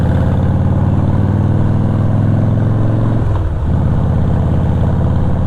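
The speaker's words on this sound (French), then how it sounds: "il faut se fier au bruit du V-Twin" A Harley-Davidson Cross Bones V-Twin rumbles loud and steady at close range, its deep pulsing drone dipping briefly as the revs shift before settling back into the same throaty beat.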